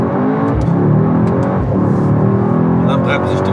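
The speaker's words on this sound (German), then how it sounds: "Gut, ich beschleunige jetzt mal." Car engine revs and accelerates during a Bosch braking test drive on a test track, a loud steady drone climbing in pitch as speed builds, heard from inside the vehicle with a voice speaking over it.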